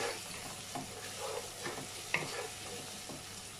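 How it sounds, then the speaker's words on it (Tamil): Onions for mutton paya frying in a pan while being stirred, a faint, steady sizzle broken by soft periodic scrapes and one sharper clink, heard alone without talk. "வெங்காயம் நல்லா முருகட்டும்"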